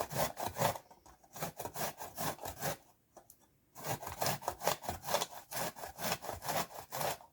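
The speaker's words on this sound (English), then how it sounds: "So I'm just gonna start grating like this." Zucchini with the peel left on is rubbed against a grater in quick, rhythmic rasping strokes, a brief pause near the middle before the steady scraping resumes, close and clear with no talking.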